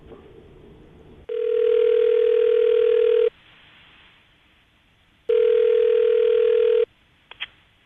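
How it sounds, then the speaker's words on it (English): Telephone ringback during a call out to a radio listener on a morning show: two long steady tone bursts separated by a pause, followed by a faint click as the line picks up. "we're going to call her right now, see if we can get her on the phone"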